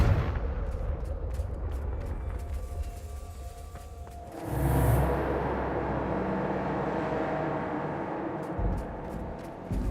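Confringo blasting spell in the video game Hogwarts Legacy, a loud rumbling burst around the middle of the clip that swells and fades into a low sustained roar over game ambience.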